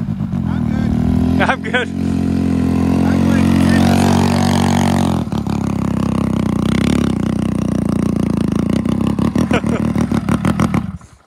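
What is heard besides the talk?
DTV Shredder engine revving as it takes off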